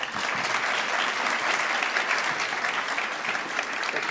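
Audience applause at an anti-corruption summit, a full, even wash of many people clapping, loud and continuous for the whole stretch with no speech over it.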